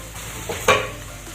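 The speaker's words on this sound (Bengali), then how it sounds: "পেঁয়াজটা কিন্তু একদম ঠিকঠাক ভাজা হয়ে গেছে" Onions frying in a pan for a rice dish, a soft steady sizzle with one quick scraping stir of a utensil, close and fairly quiet.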